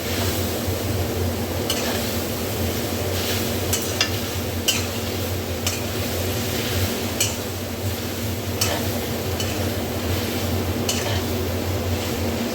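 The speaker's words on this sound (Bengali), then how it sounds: "এবার এই দুটোকে একসাথে নাড়তে থাকবো।" Soybean chowmein being stirred in a pan, a steady sizzle with scattered scraping clicks from the utensil against the metal running continuously, fairly close, with no talking.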